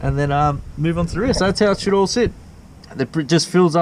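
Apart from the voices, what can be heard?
None of the usual background noises is heard.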